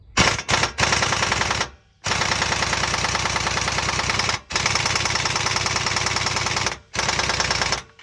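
Impact wrench hammering at a stuck, torqued-on suspension bolt on a 2008 Dodge Durango, loud rapid rattling bursts of about two, two and a half, and two seconds separated by short pauses, close up with no talking.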